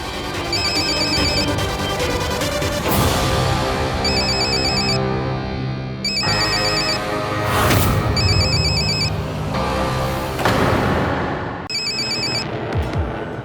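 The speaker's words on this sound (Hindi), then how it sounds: "तेरा फोन बज रहा है क्या?" A phone ringtone chimes in repeated bursts over loud, busy background music.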